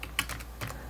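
Quick taps on a computer keyboard, a few close key clicks in a short burst of typing.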